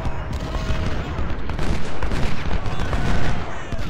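Cannon and musket fire from a Civil War battle in the video game Ultimate General, a dense, continuous barrage of crackling volleys and booms.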